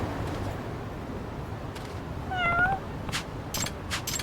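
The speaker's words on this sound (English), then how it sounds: "I see more cats to befriend." Cats meow in the video game Lost Judgment, with one clear rising-and-falling meow over a steady ambient bed, followed by a few short clicks.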